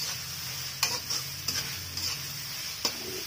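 Chicken pieces browning in a handi, roasted and turned with a spoon: continuous close, loud sizzle broken by several crisp scraping strokes and metal taps at irregular intervals, with no voices.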